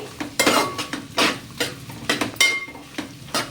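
Onions for chicken fried rice being mixed in a pan over high flame, a spoon scraping and clanking against the metal in repeated close strokes over a steady faint sizzle, with no voices.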